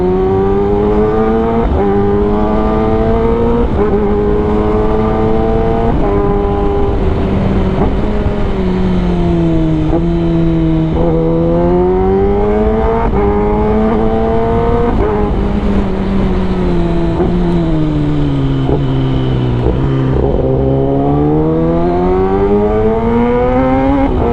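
A Kawasaki ZX-10R motorcycle accelerates hard at speed, its loud, close engine rising in pitch and dropping with each gear change over steady wind rush.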